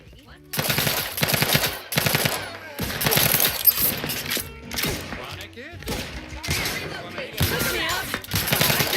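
Video game gunfire in rapid automatic bursts, loud and close, broken by short pauses between volleys, with game voices and sounds mixed in under the shooting.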